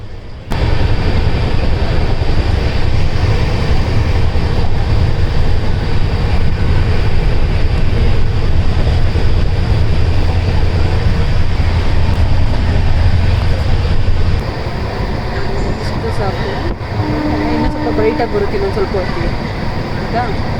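A train runs on an early-evening journey with a loud, steady low rumble and rattle of carriages that eases slightly near the end, while people talk over it.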